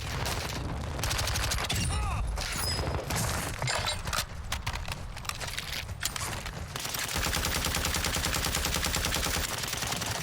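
Rapid bursts of FTAC (MAC-10) submachine gun fire from the Warzone Resurgence video game crackle loudly in dense, stuttering volleys, joined by other in-game shots and clatter.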